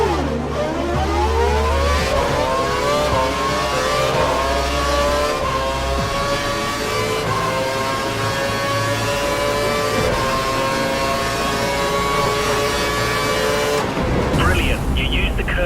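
Screaming high-revving F1 race car engine in F1 2012, the pitch climbing through gears as it overtakes, loud and continuous, with a brief gear-shift drop near the end and a voice talking over it.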